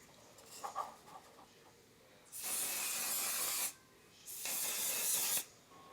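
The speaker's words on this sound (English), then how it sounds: "The One Size Until Dawn Mattifying Waterproof Setting Spray." Two long, close hissing bursts of One Size Until Dawn Mattifying Waterproof Setting Spray from a pump bottle, each lasting over a second, after a few faint soft taps.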